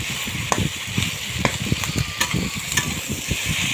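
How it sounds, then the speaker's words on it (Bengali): Potatoes stir-frying in a pan, a dense sizzle under rapid rhythmic scraping and stirring strokes, near and steady with no one speaking. "আলুটা দেওয়ার পরে একটু কষে নিলাম"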